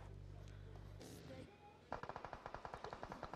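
Rapid automatic gunfire from PUBG Mobile, heard during a competitive match, bursts in as a quick regular string of shots after a short stretch of quieter game sounds.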